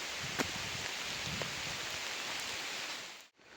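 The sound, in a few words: light spring rain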